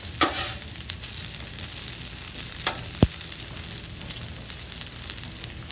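Fries crackle and sizzle steadily in hot oil in a pan, a constant close frying hiss broken by a sharp utensil clack and occasional light scrapes.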